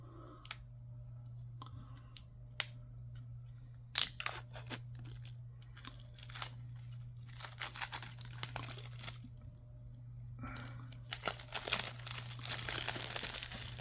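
Shrink wrap being torn open on a stack of proxy trading cards, a run of close, irregular crinkling and ripping bursts of plastic over a steady low hum, with no talking.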